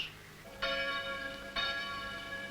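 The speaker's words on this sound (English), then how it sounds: "When you've heard the bells ring out across this valley from the Lutheran steeples of the churches" Lutheran church bells ring out across a valley in South Australia's Barossa region, two distinct strikes with long shimmering overtones that overlap and decay, moderately distant and clear with no voices.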